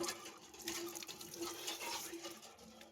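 Water from a hand pump splashing as someone washes their face, a soft, steady gurgle with small splashes, fairly faint and close by.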